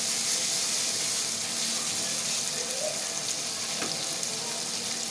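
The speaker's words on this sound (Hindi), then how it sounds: "इसे हम तकरीबन 5 से 7 मिनट तक भूनेंगे" Minced meat and peas for keema matar fry in a pan with a steady, close sizzle throughout, joined by faint stirring scrapes.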